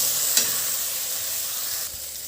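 Peeled water chestnuts (singhara) frying in spice masala over a low flame, giving a steady, close sizzle with a brief stirring clatter near the start and a slight drop in level toward the end.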